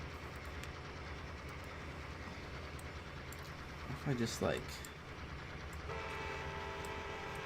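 An American locomotive in the Trains Railroad Simulator 2019 video game rumbles steadily and sounds a brief horn blast midway, while a player talks over the engine noise.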